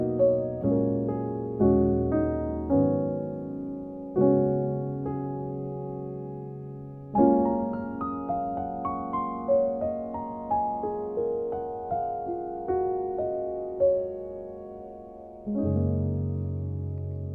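Solo piano plays a gentle Lydian-mode melody over sustained chords as a song's ending, a series of notes and chords struck one after another in a slow, dreamy rhythm, with no voices.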